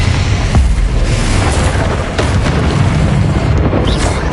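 Loud, continuous blasting from the Confringo fire spell in Hogwarts Legacy, dense booming bursts layered one after another without a break.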